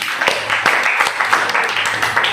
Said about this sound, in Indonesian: Tepuk tangan dulu untuk Rasel dong.